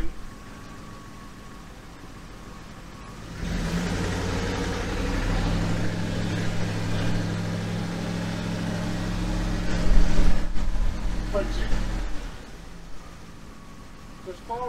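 A Triumph Stag engine with Stromberg CD 175 carburettors idles steadily, then its note rises and holds as the throttle is raised to about 1500 RPM, a close, continuous drone with a brief louder surge near the end before settling.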